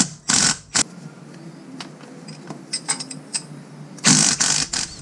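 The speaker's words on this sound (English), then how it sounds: "Now remove the drive shaft bolts using a 14mm front and rear." A 14mm wrench works on the drive shaft bolts of a Toyota Tacoma, giving loud, close bursts of metallic ratcheting at the start and end, with scattered light clinks and taps of tools in between.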